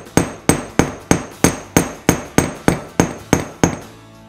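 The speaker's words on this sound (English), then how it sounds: "hammer the curve a little bit," Twelve sharp, evenly spaced hammer blows ring out on a metal block as the curves of a wire jewellery clasp are flattened, each strike bright and close with a short metallic decay.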